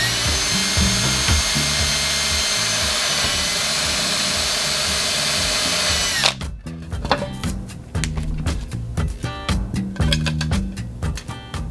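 A power drill bores a 1/4 inch hole for a mini toggle switch, a steady high whine for about six seconds before it cuts off, followed by irregular clattering handling noises.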